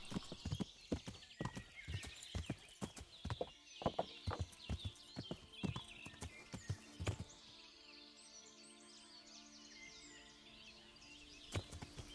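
Horse hooves in the video game Kingdom Come Deliverance clop in a fast, steady riding rhythm for several seconds, fade under ambient birdsong, then return with a couple of louder hoofbeats at the end.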